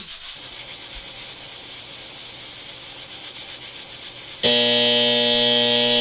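A pressure cooker making leek and potato soup hisses steadily as its weight rocks, then switches abruptly to a louder, harsh buzzing steam tone that holds to the end.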